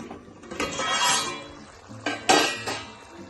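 A metal lid clanks and scrapes against a cooking pot of simmering rajma (kidney bean) curry, with a couple of sharp clinks and soft rattles, close by.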